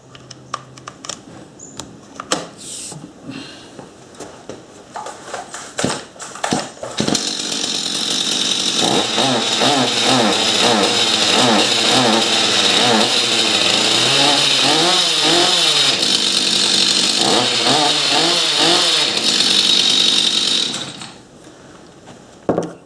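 A Stihl MS 251 C chainsaw, just fitted with a replacement fuel tank, is pulled and clatters before the engine catches and runs loud and close for about fourteen seconds, revving up and down, then cuts out.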